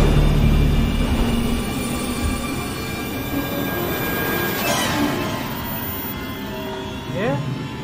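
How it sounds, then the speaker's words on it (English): A train in the Alien Isolation video game pulls into a station with a heavy rolling rumble, a faint metallic squeal and hiss near the end, heard steadily at moderate loudness. "Oh, finally. The train's here."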